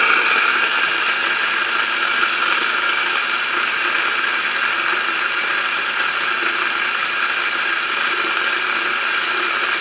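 A Turin DF54 coffee grinder grinding espresso beans, a loud continuous whirring, crunching grind that holds steady and close for the whole stretch with no talk.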